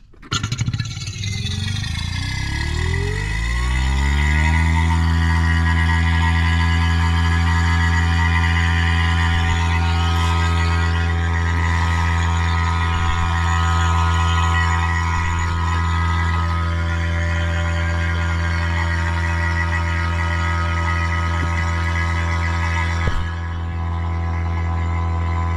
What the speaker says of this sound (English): So let's start a vacuum.